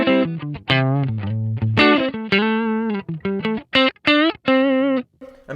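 A Stratocaster on its neck pickup, played through a Kemper amp profile, rings out a clean melodic line of distinct notes and short phrases, sustained and bright, with no talking.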